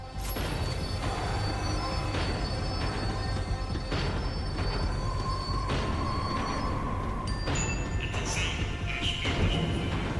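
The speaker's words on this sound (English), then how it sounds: "The tram was slowing down, and I'd only just gotten on board." Tram slowing down in Max Payne 3, a steady loud rumble of wheels on rails with a sustained squeal and metallic clanks toward the end.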